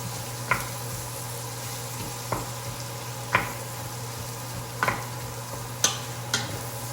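Meat cooks down in a pan with a steady low sizzle, broken by about seven sharp scraping stir strokes at irregular intervals.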